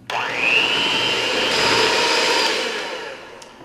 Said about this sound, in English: we're gonna now mix uh, thoroughly and make sure we don't have any pockets of any dry flour